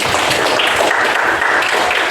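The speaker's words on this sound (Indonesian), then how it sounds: "Kita berikan tepuk tangan dulu." Applause from a classroom or workshop audience at the close of a coaching session for academic supervision, a steady dense wash of clapping lasting throughout without pause.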